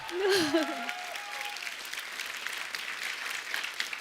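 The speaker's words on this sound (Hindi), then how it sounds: "जोरदार तालियां।" Audience applause on a comedy talk show hosted by a host, a steady wash of clapping that holds through the clip, opening briefly under a voice.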